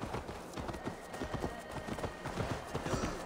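A horse's hooves clip-clop at a steady trotting rhythm in Assassin's Creed Valhalla, with close, distinct repeated thuds over a light ambient bed.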